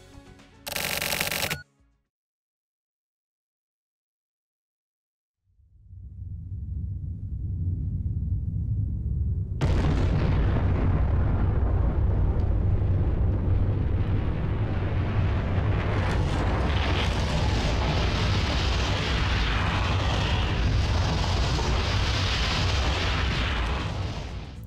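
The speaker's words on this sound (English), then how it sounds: "he then triggers an explosion that destroys the Snow Tower, killing everyone, including himself" A massive explosion destroying the Snow Tower in The Silver Case: after a brief loud burst and sudden silence, a deep roar swells up and becomes a sustained, loud, broadband rumble that continues steadily to the end, with no voices.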